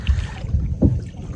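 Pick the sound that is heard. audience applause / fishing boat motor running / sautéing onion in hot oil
fishing boat motor running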